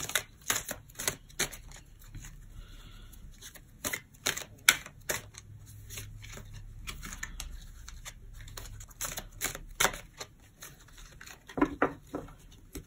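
Tarot cards being shuffled and cut by hand, a run of quick papery riffles and soft slaps with short pauses between bursts, close up and fairly quiet with no talk.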